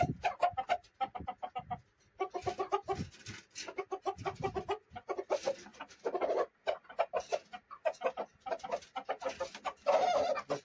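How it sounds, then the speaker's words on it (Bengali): A native desi rooster clucks in repeated short bursts, steady and close, with brief pauses between call groups and no one speaking. "অরিজিনাল দেশি মোরগ,"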